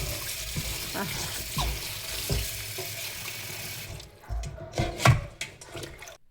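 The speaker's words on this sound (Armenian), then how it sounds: "Բրոկոլին թողեցի մի 15 րոպե մնաց աղաջրի մեջ, հոսող ջրի տակ լավ լվացել եմ" Broccoli rinsed under running tap water in a sink, a steady close rush of water for about four seconds, then the flow stops and a few wet knocks and drips follow.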